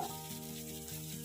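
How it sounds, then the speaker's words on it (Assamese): Crown daisy greens (babori saag) fry in a pan with a steady, soft sizzle and faint stirring scrapes, heard alone without speech. "অলপ সময় মই এইদৰে ভাজি লওঁ"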